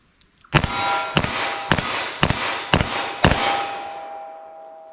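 Six evenly spaced shots from a .327 Federal revolver firing hard cast bullets, each a loud sharp crack followed by a lingering metallic ring, with no talk.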